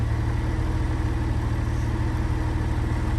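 A 1997 Porsche Boxster's engine idles on its standard exhaust with a steady, even low-pitched pulse, close and continuous, with no voices over it.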